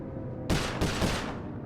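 Crack shot gunfire in the Sly Cooper Thieves in Time video game comes as a loud, sharp burst of two or three rapid close shots that cut in abruptly after a moment of quiet.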